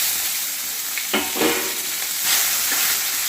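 Chopped onion fries in hot oil with nigella seeds and a dried red chilli, a bright steady sizzle with a few scraping stirs of a spoon in the pan, heard up close with no talking.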